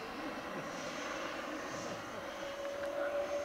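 An FF-117 electric ducted-fan model jet on a small 2200 mAh battery flies overhead as a steady whooshing whine, a continuous moderate drone that rises slightly in pitch toward the end.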